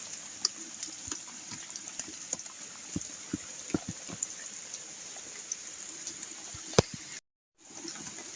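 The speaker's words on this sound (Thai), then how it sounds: "ฝนก็ตกขนาดพี่น้องโอ้ลำบากว่ะ" Rain falls steadily outdoors, a soft continuous hiss dotted with irregular drips and taps on nearby surfaces, fairly faint, with a brief cutout near the end.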